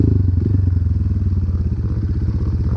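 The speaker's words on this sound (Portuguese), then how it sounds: "Ouça o barulho de motos." Dirt motorcycles riding a trail during an anniversary trail ride in Itararé, São Paulo, a close, steady throbbing engine drone with a rapid rhythmic pulse and some clatter.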